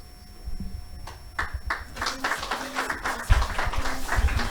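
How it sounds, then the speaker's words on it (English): An audience claps at a book launch event on genocide in Gaza, with uneven, sharp claps building over several seconds and a faint steady tone and some voice underneath. "Keep on clapping, man. You can do better."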